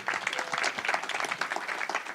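An audience at a VR festival speaker event applauds the guests, a steady patter of many hands clapping at moderate distance, with faint crowd murmur underneath.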